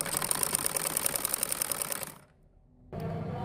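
A sewing machine stitches a gharara seam in a steady rapid run of needle strokes, stopping abruptly for a brief pause before starting again.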